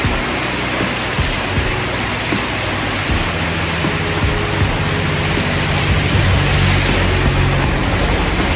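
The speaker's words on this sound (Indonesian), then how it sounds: "Hujan teman-teman." Heavy tropical rain pours down steadily on a shelter near Situ Salawe during a rainy ride home from a camping trip, a dense, even hiss filling the whole stretch with no talking.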